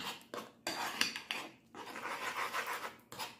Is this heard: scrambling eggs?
yes